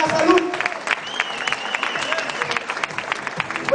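A crowd at a 4Life product event claps continuously for a health professional, a full, sustained round mixed with cheers and a voice talking over it.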